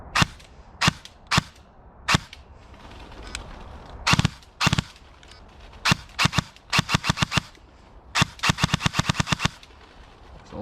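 Specna Arms SA-H07 airsoft AEG with a tracer unit, fired as sharp single shots and short rapid bursts, loud crisp cracks in an irregular pattern with quiet gaps between.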